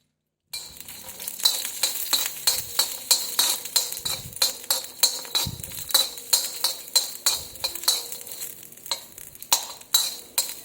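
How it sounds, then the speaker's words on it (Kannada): Garlic sizzles steadily in a hot pan while a utensil stirs it, giving repeated scraping clinks in a quick, uneven rhythm, close and fairly loud, with no voices. "ಬೆಳ್ಳುಳ್ಳಿ ಹುರಿತಾ ಇದ್ದೀನಿ."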